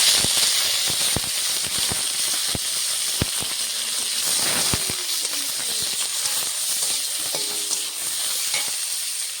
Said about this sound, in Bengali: সর্ষের তেলটা গরম হয়ে গেছে, মাছগুলো ছেড়ে দেবো।